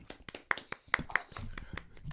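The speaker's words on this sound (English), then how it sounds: "Come on, let's clap." Scattered hand claps from a small group on a morning talk show, a few sharp close claps in an uneven, quiet burst, with some talk mixed in.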